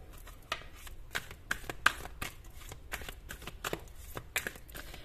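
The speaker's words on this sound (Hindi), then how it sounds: "तो अगर आपको कार्ड शफलिंग पसंद नहीं है तो आप स्किप कर सकते हो" Tarot cards being shuffled by hand at close range, a steady run of soft riffling flicks and slaps with brief pauses, quiet and without talk.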